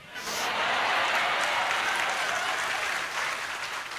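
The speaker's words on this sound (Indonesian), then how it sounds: "Jangan tepuk tangan dulu, sedih nanti ceritanya." Sustained audience applause at a talk, a dense wash of clapping rising quickly and holding steady for several seconds before easing slightly.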